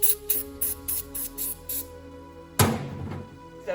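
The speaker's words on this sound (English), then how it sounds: "A good idea when cleaning out the bowl of your carburetor is to use carb and choke cleaner to clean out the inside of your bowl" Carb and choke cleaner sprays into a carburetor bowl in a quick series of about six short hissing bursts, followed by a longer, louder spray with a clunk, close up.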